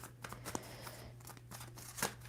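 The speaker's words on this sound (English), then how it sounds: "2 more shuffles" A deck of tarot cards is shuffled by hand in a few short riffling bursts, close and fairly quiet over a steady low hum, with no talking.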